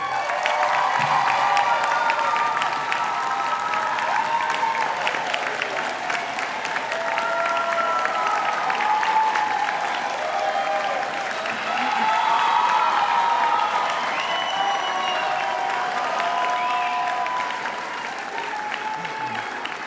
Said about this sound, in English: I invite you all to thank with your applause the family members and loved ones and friends in the audience